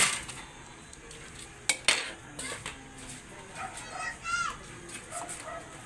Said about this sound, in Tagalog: Haluin lang po natin para humalo na po ang ating mga sangkap sa ating bihon.